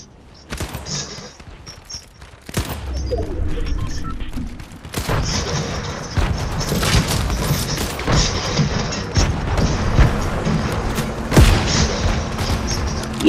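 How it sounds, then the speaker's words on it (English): Gas tanks blowing up in Fortnite, a series of loud explosive booms and crashes scattered across the stretch, some mixed with rapid gunfire bursts, over a steady rumbling background. "Yup, I'm blowing all of them up."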